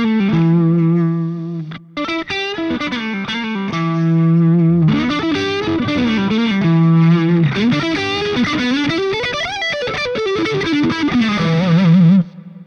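A PRS electric guitar, its volume knob rolled back to about half, plays distorted chord strums and riffs with a chorus-like shimmer, loud and up close with no talking.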